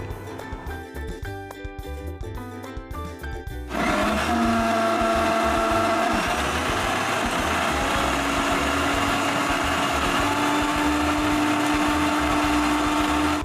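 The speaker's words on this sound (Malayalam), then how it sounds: "ഇത്രയും നമ്മൾ മിക്സിയിലിട്ട് നന്നായിട്ട് അടിച്ചെടുക്കുന്നുണ്ട്." A mixer grinder blends coconut, ginger and cardamom with water: after a few seconds of other tonal sound, a loud, steady motor whir starts abruptly and runs on close and continuous.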